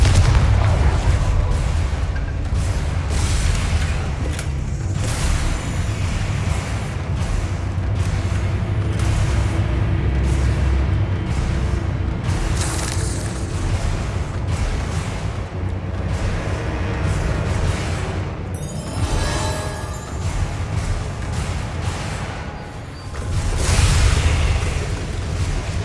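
Repeated fiery spell blasts from the Confringo fire spell in the Hogwarts Legacy video game, a dense run of loud booming bursts over continuous game music and ambience, with a sharper cluster of hits near the end.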